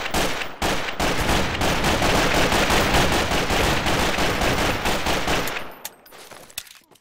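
Dense, rapid automatic gunfire in the Garry's Mod video game, a loud near-continuous burst of shots lasting several seconds before tapering into a few scattered cracks.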